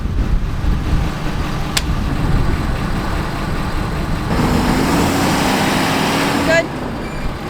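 A camper van idles and creeps backward onto leveling blocks, a steady mid-range engine drone running throughout, with a brief sharp click early on and some faint squeaks near the end.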